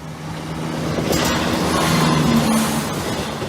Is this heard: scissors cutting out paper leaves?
no